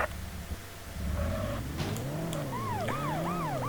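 A police car siren wails in the World's Scariest Police Chases video game on PS1, rising and falling in repeated sweeps that grow louder over low engine noise.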